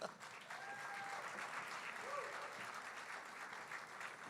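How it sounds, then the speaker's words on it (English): An audience at a motorsport awards banquet applauds for a driver, with sustained, even clapping filling the room and a brief voice or whistle rising above it. "A round of applause for Jerry."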